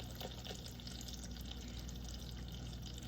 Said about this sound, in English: Now I feel like I have to add a little bit more water